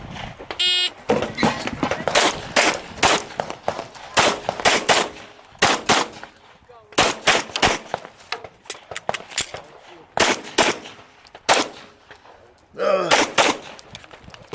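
Pistol gunfire at an IDPA shooting match, the Blade-Tech Lone Star Championship: sharp, loud shots in quick strings of two or more, separated by short pauses, with faint outdoor background between bursts.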